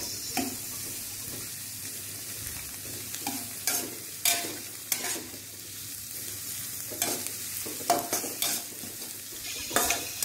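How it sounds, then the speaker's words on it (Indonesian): Onions sautéing in a pan over low heat for a vegetable capcay soup, a steady soft sizzle with repeated scraping stirs and clinks of a utensil against the pan throughout. "Pertama kita tumis bawang semuanya dan pastikan apinya kecil"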